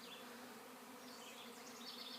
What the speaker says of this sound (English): there's still a few bees flying around